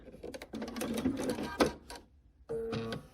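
A home sewing machine stitches cotton quilt patches together for a four-patch block, running in short bursts with a pause before a final steady run, close and moderately loud.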